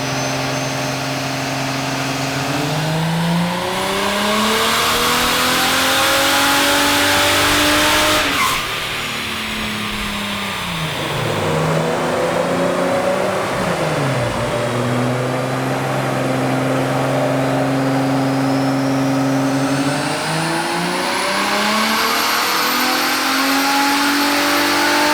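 Turbocharged BMW E28 engine running on a dyno at wastegate pressure on 98 fuel, loud and close, sweeping up through the revs several times with strong rising harmonics, dropping back and climbing again.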